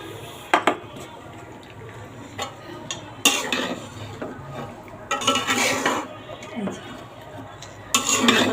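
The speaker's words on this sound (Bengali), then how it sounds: "মাংসটা আমি এখন কষে নেব।" Duck meat is stir-fried with coriander leaves in a pan, with a spatula scraping and clanking against the metal in irregular bursts alongside a soft sizzle, close by.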